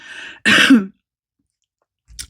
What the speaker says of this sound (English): So coughing again.